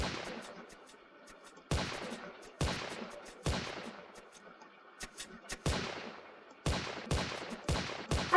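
A rainbow-shooting gun in the video game Bedwars, firing about ten sharp, loud shots at uneven intervals, each followed by a quick decaying tail, with quiet gaps in between.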